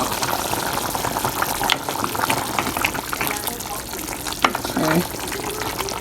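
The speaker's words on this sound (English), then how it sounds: "It's smelling good, but it's very watery, so it needs to continue to boil anyway." A watery plantain stew bubbling steadily in a pot, a continuous dense simmering hiss at moderate loudness, with a few faint clinks and brief voice traces mixed in.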